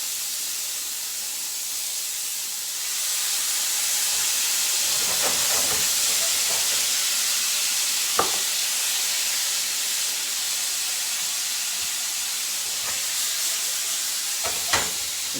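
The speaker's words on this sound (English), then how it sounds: "And you're basically steaming the seared broccoli. This will make it tender and delicious" Seared broccoli steaming in a pan after chicken stock is added, a steady loud hiss and sizzle with a few brief clinks and scrapes, no talk.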